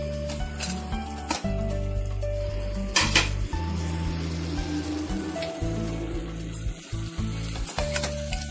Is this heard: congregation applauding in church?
no